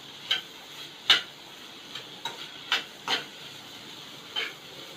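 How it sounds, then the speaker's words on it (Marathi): Onion and chana dal being sautéed in a tempering pan for foraged fodshi greens, a faint steady sizzle broken by several light scraping taps of a spoon, close by. "आता हे आपलं थोडं परतून झालं आहे"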